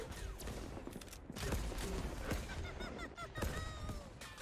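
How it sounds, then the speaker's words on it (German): Rapid bursts of gunfire in the video game Worms Rumble crackle continuously, dense overlapping shots and impacts with a few sharp ricochet-like whines, fairly loud throughout. "Ich höre immer noch Schüsse oben."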